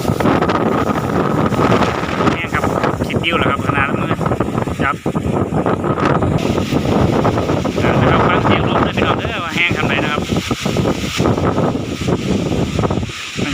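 Strong storm wind roars steadily into the microphone, a loud continuous buffeting gust noise with a rumbling low end, sweeping through trees in Kalasin, Thailand; no pauses throughout.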